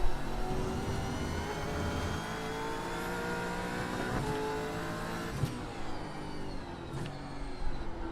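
A race car circulating on track, its engine droning and revving close by with pitch shifts as the throttle eases and the brakes come on, with a few sharp transients near the end.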